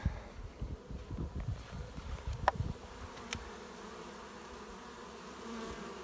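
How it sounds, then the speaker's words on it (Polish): Bees buzz and hum close to the microphone, with some bumping and rustling at first, then a steady low drone. "Jest tyle pszczoły, moim zdaniem."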